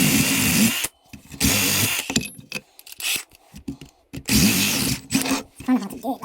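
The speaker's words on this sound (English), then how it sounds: "with a 7mm drill bit that I'm going to use" A power drill with a 7mm bit whirs in several loud bursts separated by short pauses, close by, with clattering between runs, while fitting a mortice sashlock.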